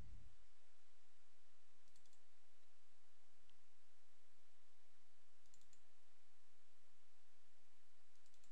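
Computer mouse clicking while using Autodesk Inventor software on a desktop, a few sparse, faint clicks spaced seconds apart against a quiet, hissy background with no talking.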